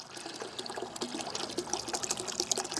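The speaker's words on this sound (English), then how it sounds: "As you see, we got water draining out." Water drains from the drain valve of a five-year-old broken household water heater, trickling and splashing continuously into a bucket, close up and steady with no talk.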